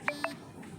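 Two short electronic notification beeps from the Chicken Gun video game, close and clear in quick succession, then a faint hum with no talking.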